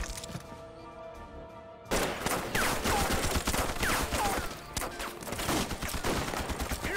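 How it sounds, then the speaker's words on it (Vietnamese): Gunfire from soldiers shooting at fleeing men in a war film, a low rumbling lead-in followed by dense, rapid bursts of shots and impacts that continue loudly to the end. "Đừng để chúng chạy, bắn rét vào cho tôi"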